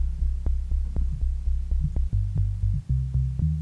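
A low, humming dubstep synthesizer bass tone pulses steadily with regular clicks, shifting pitch a couple of times near the end.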